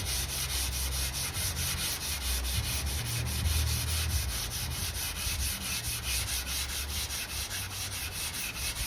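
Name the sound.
wet sanding VW T25 van paint with wet-and-dry paper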